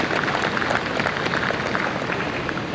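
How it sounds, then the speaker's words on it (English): An audience claps steadily at a Georgia observance ceremony, a dense, even patter of many hands that holds at moderate volume throughout without voices over it. "That deserves a round of applause"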